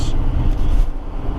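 A Duramax diesel engine rumbles low and steady in a 2021 Chevrolet Silverado 3500HD pickup on the move, heard as a brief, close, deep drone from inside the cab.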